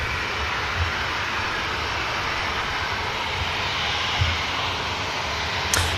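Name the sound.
Ryanair airliner jet engines on the runway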